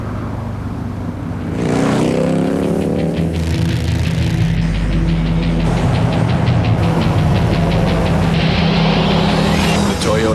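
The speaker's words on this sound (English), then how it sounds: "Toyota Tundra Double Cab with a more powerful I-Force V8 engine" A Toyota Tundra Double Cab with an I-Force V8 engine runs loud and steady throughout, its engine drone and revving mixed with music and effects in a TV commercial, building after a quiet opening.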